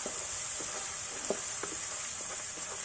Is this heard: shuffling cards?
no